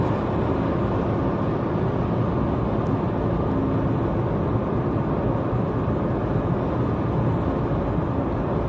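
A Ford Fiesta engine drones steadily while climbing a gentle road grade, a constant broadband hum mixed with road and wind noise, loud and unbroken from inside the car.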